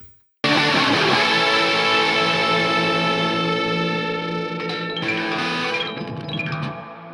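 Distorted electric guitar noises swell and sustain with a lush plate reverb tail, shifting into scraping, squealing textures before fading.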